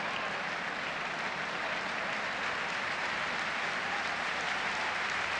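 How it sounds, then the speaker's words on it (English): A stadium football crowd at a West Ham United versus Manchester United match applauds, a continuous distant roar of clapping and noise that stays even and unbroken throughout. "Applause all around"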